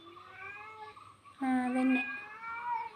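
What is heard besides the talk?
cat meowing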